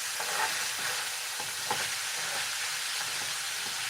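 Ground beef and onions fry in a pan, with a soft, steady sizzle and hiss and occasional brief stirring scrapes. It is fairly quiet and close, with no talk.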